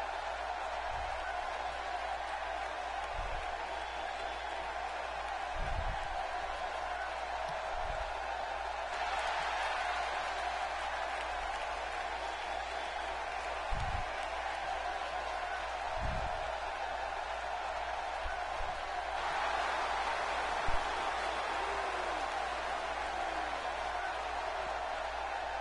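Steady roar of a Columbus arena crowd at a WWE 2K wrestling live event, a continuous broad wash with swells in intensity and scattered louder bursts, heard throughout without a break.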